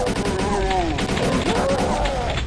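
Chain gun firing in Doom 2 against hitscan enemies, a steady dense burst of shots running the whole time under layered game effects and monster noise.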